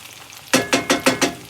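Chicken cooking in a cast iron skillet over medium heat for a chicken cashew stir fry, five quick evenly spaced scraping stirs over a sizzle, close and loud.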